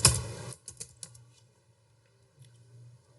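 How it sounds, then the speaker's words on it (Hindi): A burst of quick keystrokes on a computer keyboard, several close clicks in the first second, then quiet with a faint low hum. "चलिए मैं इसको अपने कीबोर्ड से ओपन करता हूँ।"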